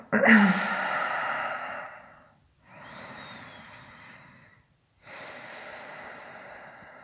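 Slow, deep breaths during a morning yoga stretch: a long audible exhale followed by two more steady, close breaths separated by short silences, with no talking.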